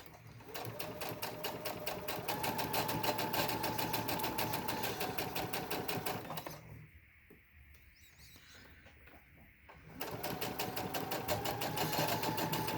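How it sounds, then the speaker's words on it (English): A domestic sewing machine stitches a fabric face mask with a filter pocket, a fast steady mechanical whirring and clatter up close, pausing for a few seconds before running again. "now go forward, start stitching"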